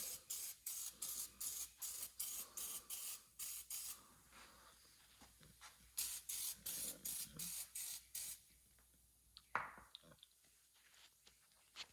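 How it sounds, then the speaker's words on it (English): An aerosol spray can hisses in many short, evenly repeated bursts as it coats a greasy, gunk-covered Honda D16Y7 engine, loud and close, with two clusters of spraying, then quieter handling noises toward the end. "Spray a good little coat or two on. I'm really gonna hit it heavy where all this gunk is."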